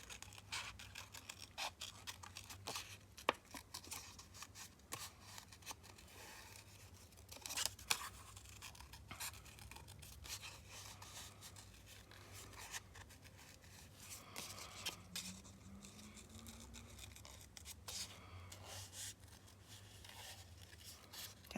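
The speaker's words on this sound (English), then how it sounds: "now I'm going to fussy cut this a bit" Scissors fussy-cut paper for a mug-shaped journaling notebook, with soft snips and scratchy paper rustles coming in irregular bursts at close range, quiet overall with a few louder crisp cuts.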